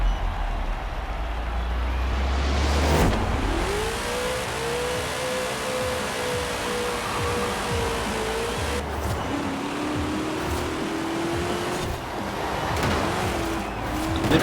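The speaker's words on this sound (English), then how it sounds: "Wheel spin off the line." Studebaker Dream Roadster, a Hot Wheels Rods and Custom car in Forza Horizon 4, spins its wheels off the line on a winter course, a steady engine drone with rising gear tones held loud and close throughout.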